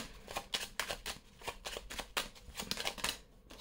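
Oracle cards of the Belline deck being shuffled by hand, a run of quick papery riffles and slaps, close and fairly soft, with no talk over them.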